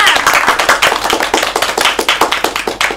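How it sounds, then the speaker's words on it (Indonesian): A classroom of students claps together in a brisk, slightly uneven rhythm, loud and close, individual claps distinct and sharp throughout, no talk over it. "Ayo beri tepuk tangan semuanya"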